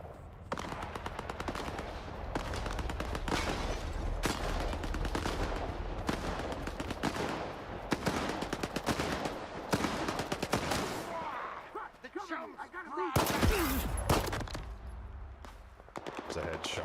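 Sustained rapid automatic gunfire in a video game, dense bursts of shots at close range that briefly thin out before a louder blast near the end, with a voice talking over parts of it.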